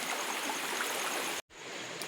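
Stream water rushing close by at a Konkan crab-catching spot, a steady broadband flow that cuts out briefly and then resumes.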